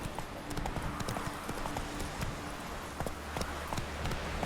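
Horse hooves galloping in the video game The Witcher 3, a quick, steady clip-clop of hoofbeats close up, with faint game sounds behind.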